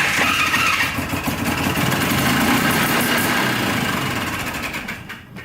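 Cheap junk 4x4 ATV engine running after being fired up, a loud rough rattling idle with steady vibration that fades slightly toward the end, alone without voices.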